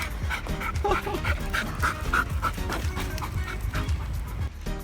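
Pixie the dog pants fast and rhythmically right after chasing a rabbit, loud and close, with a little talking mixed in.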